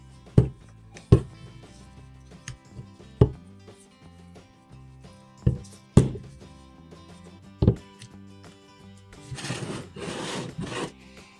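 Hands stirring and mixing bedding material in a homemade worm bin, a series of sharp rustling scrapes and thuds spaced a second or two apart, ending in a longer burst of crumbly rummaging, close and alone against a quiet hum.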